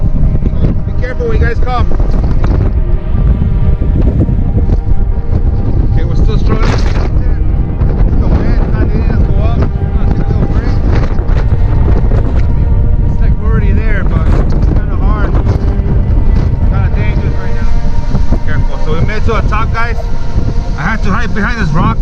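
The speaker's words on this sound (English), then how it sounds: "behind this rock because the wind's real strong." Strong wind roars across a mountain trail near the summit, buffeting the microphone in loud, gusting blasts that swell and ease throughout, with people talking beneath it at times.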